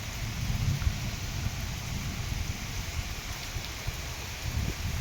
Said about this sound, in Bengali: বৃষ্টি আবার শুরু হয়ে গেছে